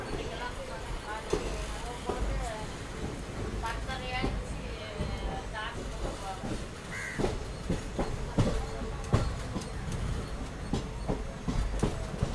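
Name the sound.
passenger train departing Salem Junction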